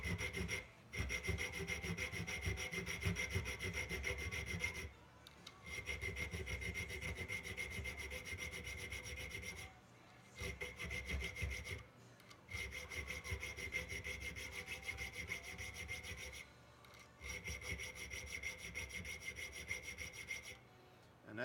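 A metal file rasps across a knife blade, cutting a notch in long sustained bursts of steady scraping, about four stretches separated by short pauses, close and fairly loud with no talking.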